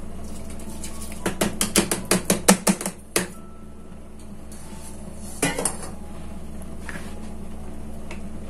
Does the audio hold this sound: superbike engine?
no